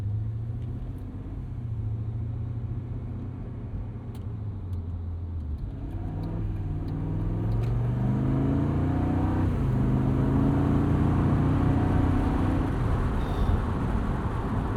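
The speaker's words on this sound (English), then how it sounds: "this is a very deep, grunty V8" A 2003 BMW Z8 Alpina's deep, grunty V8 rumbles steadily as the roadster pulls away, then swells into a louder, rising rev under acceleration, heard from inside the car with no talking.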